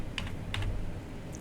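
Keys on a computer keyboard tapped in a few quick clusters while code is being written, close and clear, with no voices.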